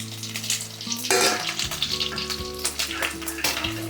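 Dry fish frying lightly in a pan gives a bright, continuous sizzle up close, with some stirring rustle, and no voices.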